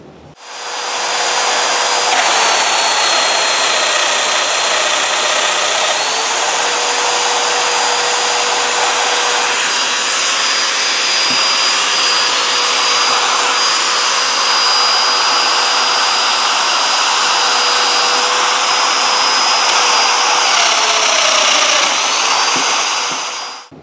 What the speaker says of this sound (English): So I'm going to plunge in this way, then I'm going to spin the domino over, line up my marks, and plunge in the other way.